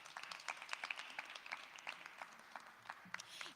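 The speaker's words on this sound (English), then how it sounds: "And a round of applause to everybody." Audience applause at a music summit event, a steady wash of many hands clapping at moderate volume, fairly distant and diffuse, continuing evenly without pause and no talk over it.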